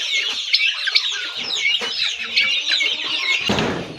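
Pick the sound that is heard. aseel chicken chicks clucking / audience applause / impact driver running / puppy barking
aseel chicken chicks clucking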